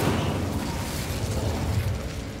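An Incendio fire spell is cast in the video game Hogwarts Legacy, a dense fiery whoosh and crackling burst that stays loud and sustained for a couple of seconds, alone without talk.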